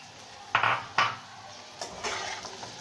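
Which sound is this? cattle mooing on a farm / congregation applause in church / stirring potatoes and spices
stirring potatoes and spices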